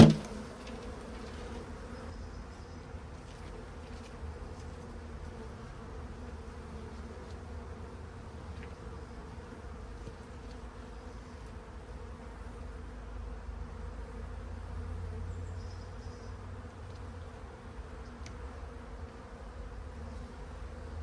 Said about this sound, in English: Bees, honestly, bees are so awesome.